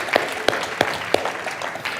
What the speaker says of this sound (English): oh, please applaud yourself.